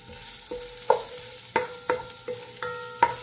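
Ginger and spices sizzle in a hot pan for a fish stew while a utensil scrapes and knocks against the pan in a loose rhythm of clinks, close and steady with no talk.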